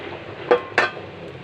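Small whole potatoes drop into a simmering pot of red-rice beef biryani, giving two quick, close clunks about a quarter second apart against a quiet kitchen background.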